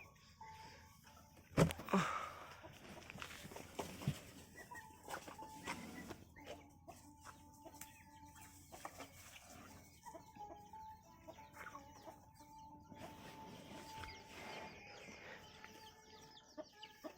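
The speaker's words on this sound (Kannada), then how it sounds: "ಈ ಕೋಳಿನೂ ಮರಿಗಳು ಕರ್ಕೊಂಡು ನೆರಳಿಗೆ ಬರ್ತೈತೆ." Soft, scattered clucking from a hen and her chicks, faint and fairly close, with quiet rustling and a brief louder bump near the start.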